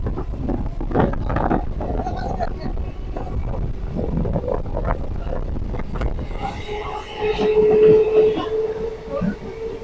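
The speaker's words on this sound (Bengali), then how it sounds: "পাঁচবেরিয়া হল্ট এখন এটা অতিক্রম করছে আমাদের ট্রেন" A local passenger train races at speed through a small halt station, giving a continuous rumbling roar with wind buffeting the microphone and a rising whine toward the end.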